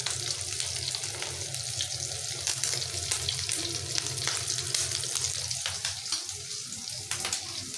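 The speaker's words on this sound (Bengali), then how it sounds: "মাছের ডিম ভাজা শেষ।" Fish roe fritters fry in a pan with a continuous dense sizzle and crackle, steady and close throughout, with scattered small clinks on top.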